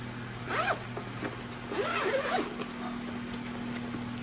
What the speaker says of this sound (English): That's like a little project bag, but it's a zippered one.